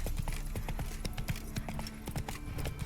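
A horse's hooves clip-clop steadily in The Witcher 3, a brisk rhythmic trot of close, crisp hoofbeats over ambient game sound.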